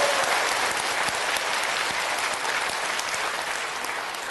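Church congregation at a Korean service applauding together, a dense, steady wash of many hands clapping that carries on without a break and fades only slightly toward the end.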